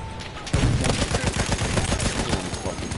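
Rapid automatic gunfire from a Battlefield 1 match, a dense stream of loud close shots starting after a brief quieter lead-in and continuing steadily to the end with battle noise around it.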